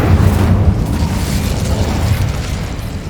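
The Incendio fire spell cast in Hogwarts Legacy, a loud booming burst of rumbling flame that swells at once and holds for a few seconds before easing slightly, with no voices.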